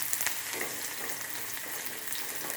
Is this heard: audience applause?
no